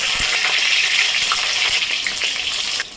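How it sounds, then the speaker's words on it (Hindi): Eggplant deep frying in hot mustard oil in a kadhai, a loud, dense, continuous hiss and sizzle close up with faint pops, no voices. "और बैगन हम फ्राई कर देंगे डीप फ्राई।"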